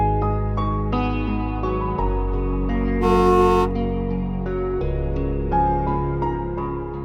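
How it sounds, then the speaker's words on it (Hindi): A car horn honks repeatedly in short and longer blasts, loud and close, with sustained tonal music underneath. "गाड़ी का हॉर्न है"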